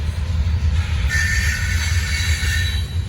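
A Norfolk Southern freight train rolls steadily past, close and loud, with a continuous low rumble of railcars and a faint high metallic ring from the wheels, and nobody speaking.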